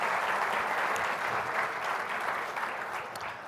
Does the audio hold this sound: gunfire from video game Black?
no